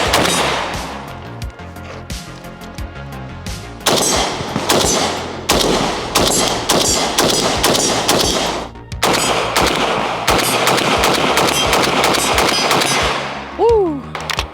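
A Draco AK pistol fitted with an MMS AK rail and T2 optic mount fires a long run of loud, sharp shots in quick succession, close up outdoors, with short pauses between bursts and a faint voice near the end.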